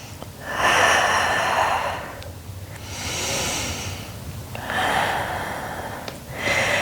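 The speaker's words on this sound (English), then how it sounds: "Keep breathing." Heavy, forceful breaths during a floor workout of glute and arm exercises on a mat, heard as four loud puffs of exhaling air in a slow, uneven rhythm, close up, with no talking.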